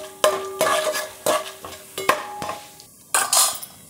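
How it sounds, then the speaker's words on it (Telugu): Mustard seeds, chana dal and urad dal fry in a pan, stirred with a metal spoon that scrapes and clanks in a rhythm of repeated strokes over a light sizzle, close and without talk. "కొంచెం దోరగా వేయించుకున్నామండి."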